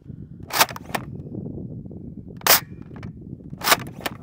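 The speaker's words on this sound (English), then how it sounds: "I'm going to do 2 or 3 shots at 50." Worker heavyweight foam darts fire from a blaster outdoors in wind, three sharp snapping shots spaced a couple of seconds apart, each followed by a faint click, over steady wind noise.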